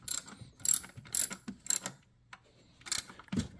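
A socket ratchet turns a bolt during knock sensor replacement on a 2012 Subaru Impreza, giving several bursts of close, crisp clicking separated by short pauses.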